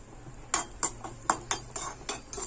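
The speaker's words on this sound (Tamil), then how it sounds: "கிஸ்மஸ் பழம் ஒரு அஞ்சு வச்சுருக்கேன் அதையும் போட்டு நல்லா வறுத்து எடுத்துக்கலாம்" A spoon clinks and scrapes in a pan as raisins fry in ghee for carrot milk halwa, about ten quick metallic taps in an uneven rhythm, close and clear over a quiet hiss.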